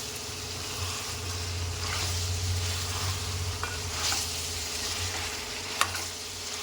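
Goat head curry fries in oil in a pot, a continuous close sizzle with a low steady rumble underneath and an occasional sharp tap near the end.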